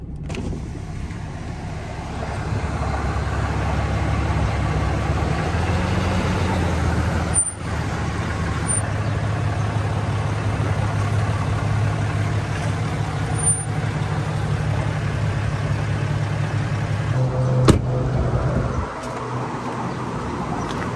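RV engine idling at close range while rolling over a gray water dump hole, a steady low rumble that holds throughout with a few brief clicks and a hiss near the end.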